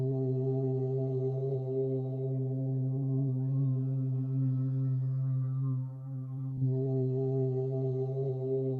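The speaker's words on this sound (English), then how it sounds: "this layer here, it's built out of vocal distortion" A looped layer of distorted voice on a Roland SP-505 beat, a droning, buzzy harmonic tone that holds steady for several seconds and dips briefly before resuming.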